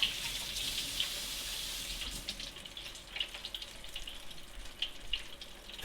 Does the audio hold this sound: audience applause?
no